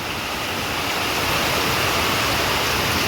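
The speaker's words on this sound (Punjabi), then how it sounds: "ਪਾਣੀ ਦੀ ਜਿਹੜੀ ਗੂੰਜ ਦੇਖੋ ਕਿੰਨੀ ਆਵਾਜ਼ ਆ ਯਾਰ ਪਾਣੀ ਕਿੰਨਾ" Roaring floodwater rushing past after heavy rain, a loud, dense, unbroken broadband roar that fills the whole stretch with no voices.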